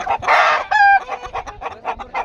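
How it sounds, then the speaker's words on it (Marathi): A Kaveri breed hen, a large-sized chicken, clucks loudly up close at an animal and bird exhibition in Pusad, in a quick series of squawks and short cackles, with no talk. "खूप मोठे आकाराची कोंबडी आहे कावेरी अशी जात"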